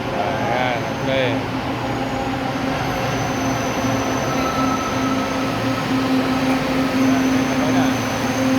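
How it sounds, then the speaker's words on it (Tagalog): An LRT train pulls into Marikina station, a loud rumbling approach with wheel squeal and steady mechanical hum, while a voice talks over the noise of the platform. "Parating na ang tren."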